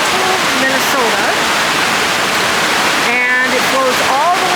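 Minnehaha Falls on Minnehaha Creek gives a steady, loud rush of falling water, a dense broadband roar throughout with a voice speaking over it.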